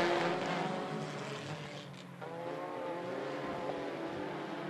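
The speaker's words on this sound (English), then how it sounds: "as we go racing with the front wheel drives" Front-wheel-drive race cars roar around a speedway oval, a steady blended engine drone heard from a distance with pitch slowly shifting as the cars pass, and no nearby voices.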